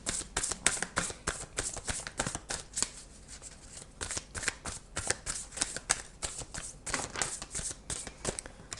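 A deck of tarot cards is shuffled close by in quick, continuous bursts of papery riffling and flicking, with no talk.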